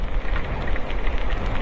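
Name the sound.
heavy rain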